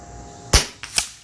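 A .25 Avenger air rifle fires an H&N Gen II slug outdoors at 100 yards: one sharp, loud crack, followed a split second later by a fainter double report of the distant impact.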